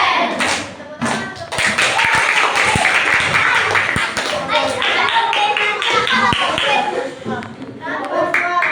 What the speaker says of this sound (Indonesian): Wow, keren. Tepuk tangan,